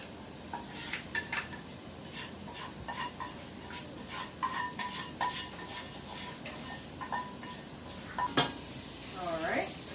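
Oil, garlic and chopped herbs sizzling in a hot pan, a steady crackling hiss punctuated by repeated clinks and scrapes of a utensil stirring against metal, fairly close and moderately quiet.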